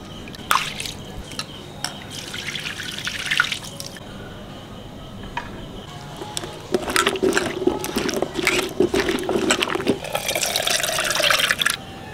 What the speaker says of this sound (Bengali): এই মাছ ধুতে অনেক সময় নিয়ে ধুতে হয়, তা নাহলে নাল ছাড়ায় না।